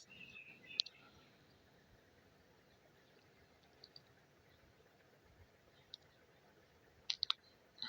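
A few faint, sharp clicks spaced out over a quiet background, with a quick cluster of clicks near the end.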